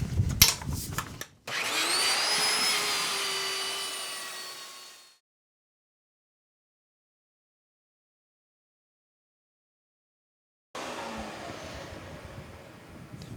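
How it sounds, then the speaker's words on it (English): A power sander sanding a drywall patch on a ceiling whirs loudly, then winds down into complete silence before its motor starts up and hums again. "So I'll go ahead and start sanding."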